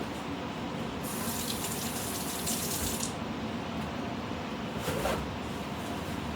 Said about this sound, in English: All right, I'm gonna wash my hands.